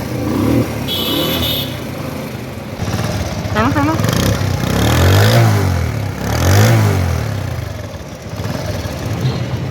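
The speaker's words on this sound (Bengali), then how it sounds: "আপনাদেরকে এখন গাড়ির সাউন্ড শোনানো হবে।" A second-hand motorcycle in near-new condition idles, then its engine revs up and falls back twice in strong, close swells, with a person talking at the start.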